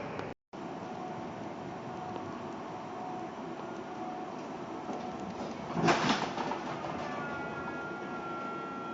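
Steady interior rumble aboard a Portland MAX Yellow Line light rail train as it pulls away. A brief louder surge or clunk comes near the end, with no talk over it.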